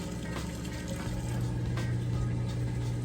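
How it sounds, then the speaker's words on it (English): A Kenmore HE washer drains water after its rinse cycle, giving a steady, continuous rush of flowing water with a low pump hum underneath, close and even throughout with no talking. "You can hear that drain running nice and fast there."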